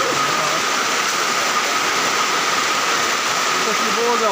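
Heavy rain pours in a loud, dense, constant hiss, with a voice faintly audible beneath the downpour.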